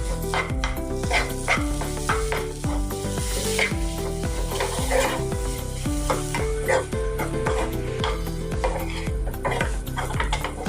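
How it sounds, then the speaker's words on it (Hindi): A spoon stirs malai cream into a coconut mixture for laddu in a metal pan over low gas, with rapid rhythmic scraping and clinks close up, backed by a soft sizzle. "अभी इसमें हम मलाई है वो इसमें डाल देंगे 3 चम्मच। अभी इसको हम मिला देंगे।"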